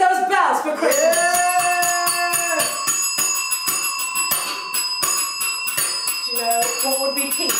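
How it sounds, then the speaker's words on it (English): Bells ring repeatedly for Christmas, a steady jangling peal of bright, sustained tones that carries loud through the whole stretch, with voices faintly mixed in among the ringing. "Let me hear you ring those bells for Christmas."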